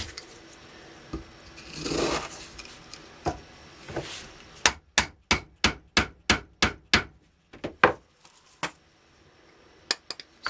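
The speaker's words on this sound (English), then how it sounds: "put another, a little bit of a smaller increment in there, ram it" Charcoal spark gerb composition rammed into a three-quarter-inch tube: a scraping pour, then a run of about eight sharp, evenly spaced ramming knocks, followed by a few scattered taps.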